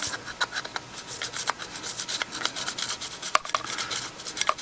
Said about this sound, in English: Take your handy fancy brush,